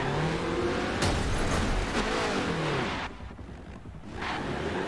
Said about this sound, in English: Revving of the motors